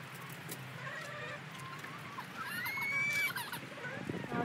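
Chickens cluck and chatter nearby at feeding time in a lively farmyard with goats, ducks and rabbits, other birds chirping in the background.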